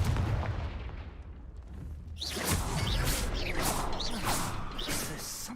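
A Confringo fire spell cast in the Hogwarts Legacy video game erupts in a loud burst of fiery whooshes and crackling blasts, continuing steadily for several seconds with no talk over it.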